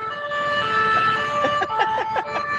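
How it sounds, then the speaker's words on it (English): Emergency siren played as a sound effect on a podcast, a loud, close wailing tone with rapid rising-and-falling sweeps and no talk over it. "The sirens are on."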